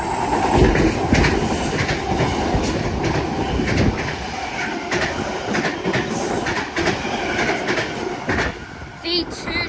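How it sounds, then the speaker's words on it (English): An eight-car Sydney Trains V-set passes a station platform at close range. Loud rumble and clickety-clack of wheels run steadily throughout, with scattered metallic squeals and clanks. "We have a Central Service about to pass platform number 1"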